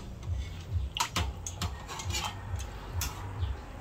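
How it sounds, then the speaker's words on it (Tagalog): Spaghetti pasta stirred in a cooking pot, with a steady rhythm of low scraping sweeps and a few sharp clinks of the utensil against the metal. "at nagbabanli na po ako ng spaghetti, ng pasta po. At akin pong hahaluin"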